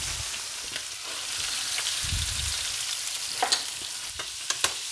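Butter sizzling in a pan as meat is basted with a spoon, a steady frying hiss with a few sharp spatters and crackles near the end.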